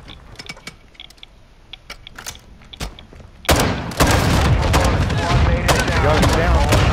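Gunfire erupts in Call of Duty: scattered sharp clicks and mechanical taps give way to a loud, sustained burst of close shotgun blasts and heavy firing that fills the second half.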